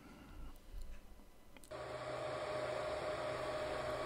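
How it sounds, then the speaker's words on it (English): A 3D printer prints a front-panel model, its steady mechanical whir with a faint high whine starting abruptly partway in and continuing alone at moderate level. "So here I am printing out the model."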